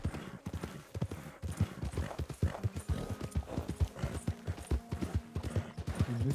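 Horse hooves clip-clopping in the video game Red Dead Redemption 2, a brisk, regular rhythm of close hoofbeats with a brief whinny, fairly quiet and heard alone.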